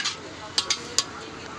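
Egg rice is stirred in a pan with a metal utensil: three sharp, close clinks ring out over a steady soft hiss of cooking.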